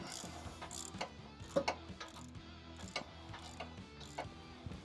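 A socket ratchet turns bolts to tighten an Artec Nighthawk rear bumper on a 2025 truck, giving steady rhythmic clicking with a few sharper clacks. It sounds close and fairly quiet, and no one speaks.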